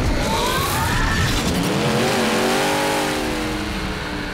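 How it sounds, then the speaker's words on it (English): The KITT car from Knight Rider 2008 roars as its turbo boost kicks in, a loud, close engine surging with rising tones that sweep upward and then fade. "Hit turbo boost. Activating turbo boost."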